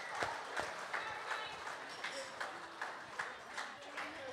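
Applause and clapping from the crowd at a football and netball club presentation night, a steady patter of hands with sharp periodic peaks, with voices audible in the room beneath it.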